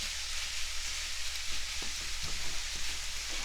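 Bolognese sauce cooking in a pan over medium-high heat, a dense steady sizzle and crackle up close with a few soft stirring scrapes, no voices.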